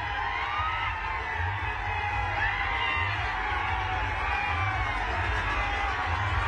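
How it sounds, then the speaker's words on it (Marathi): A dense crowd presses around Ajit Pawar's car at a political rally in Maharashtra, a steady loud roar of many voices with shouts and cheers blending into continuous noise throughout. "त्यांच्या गाडीच्या आजूबाजूला ही गर्दीच खूप काही सांगून जाते"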